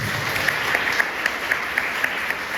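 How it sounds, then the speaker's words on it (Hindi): Audience applause fills a college hall at a girls' PG college in Lucknow, a steady wash of many hands clapping with a few sharper claps standing out. "एक बार आप सभी अपने लिए जोरदार तालियां"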